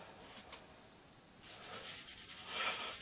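Tape being rubbed flat along a model aircraft aileron, a faint soft scratchy rubbing that swells into several quick strokes toward the end, heard alone.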